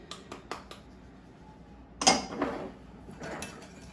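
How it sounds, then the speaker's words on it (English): Dry ingredients for gluten-free cinnamon donuts, including nutmeg, baking powder and salt, stirred in a bowl, with faint scraping clinks and taps of a utensil on the dish and one louder clatter, close and fairly quiet. "Give it a stir."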